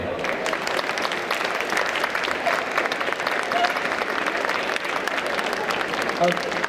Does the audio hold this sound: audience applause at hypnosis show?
yes